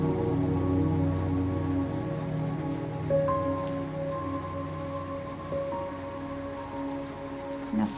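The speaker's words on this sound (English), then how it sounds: "as the rain falls and crashes into puddles, splashing back up in the air" Steady rain falls and splashes into puddles, a dense, even hiss that runs without a break under a faint low hum.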